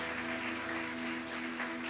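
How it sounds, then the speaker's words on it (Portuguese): Brief, fairly faint clapping from a church congregation during a worship service, mixed with steady musical tones underneath. "Dê uma salva de palmas ao Senhor."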